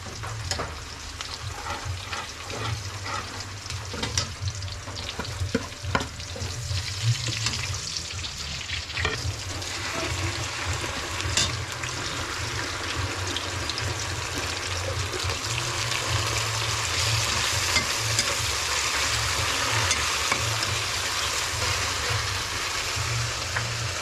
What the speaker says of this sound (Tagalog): pag magigisa ako maraming bawang maraming sibuyas